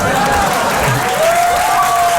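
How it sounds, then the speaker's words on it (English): A comedy club audience applauds a stand-up comedian, a dense continuous wash of clapping and crowd noise held at a loud, even level throughout. "y'all don't gotta clap"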